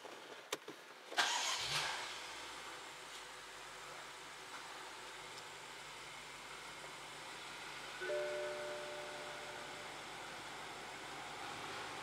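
A BMW N63 V8 cranks and catches with a sharp start, then settles into a steady low idle that continues, with a slight rise partway through, heard nearby in a workshop.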